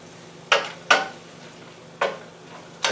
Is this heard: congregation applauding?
no